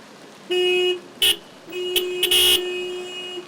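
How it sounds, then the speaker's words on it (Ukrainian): Car horns honk repeatedly in short and sustained blasts, several overlapping, as a convoy of motorists drives through the streets of Lviv in a protest motorcade over steady traffic noise. "Колона автомобілістів проїхалася вулицями міста."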